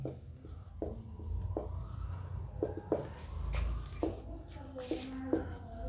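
Pen or marker writing lecture notes on a board in short strokes and taps, while someone talks steadily over it in a classroom.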